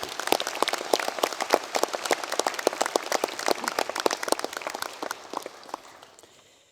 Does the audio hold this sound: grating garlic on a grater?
no